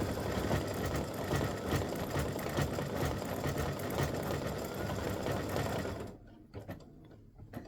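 An embroidery sewing machine stitches the black of a turkey's eyes on a football-themed mug rug, a steady rapid mechanical chatter running loud and close for about six seconds before stopping, leaving only faint ticks.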